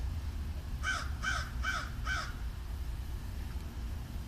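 A crow gives four evenly spaced caws in a quick row, fairly clear against a low rumbling background, then goes quiet.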